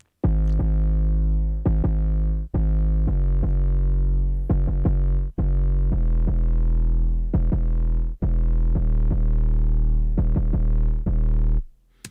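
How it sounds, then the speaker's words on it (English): A deep, booming 808 bass line pulses through a song section, with sustained low notes retriggered in a steady rhythm, loud and alone for about twelve seconds. "here's the 808 part in this section."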